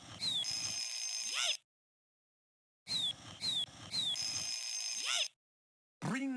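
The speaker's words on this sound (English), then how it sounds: "Ring goes the bell." A cartoon alarm bell rings in a children's reading game, JumpStart 1st Grade, in bright metallic bursts with chirpy effects, repeated in several short clusters separated by silence.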